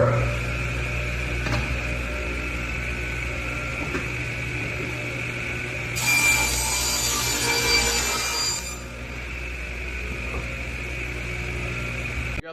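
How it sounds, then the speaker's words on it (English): Table saw ripping a wood board into 6-inch pieces, with a loud steady motor drone and a brighter, harsher cutting burst of a few seconds in the middle before it settles back to the running hum. "So we're gonna go and use our table saw and we're gonna rip them at 6 inches the other direction."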